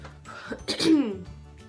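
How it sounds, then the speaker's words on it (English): A single short, rough throat clearing, close and fairly loud, with no talking around it. "So sorry for clearing my throat."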